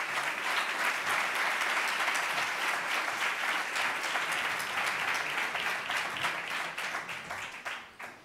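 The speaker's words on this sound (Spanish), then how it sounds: "os pido un aplauso para nuestros ponentes, yo creo que se lo han merecido" An audience at a technology and competitiveness conference applauds the speakers, sustained dense clapping that holds steady for several seconds before thinning out into a few scattered final claps.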